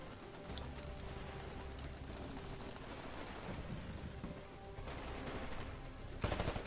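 Gunfire in a Titanfall capture-the-flag match: a dense, continuous rattle of shots with a louder, sharper burst near the end, heard alone without talk.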